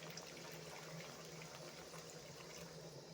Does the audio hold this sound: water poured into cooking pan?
yes